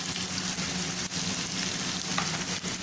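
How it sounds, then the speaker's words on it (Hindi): Tinda (apple gourd) sautéing in a pan, a steady close sizzle and hiss of frying that runs throughout with faint stirring scrapes and no talk. "मिनट हो गए इसको हमें भूनते हुए"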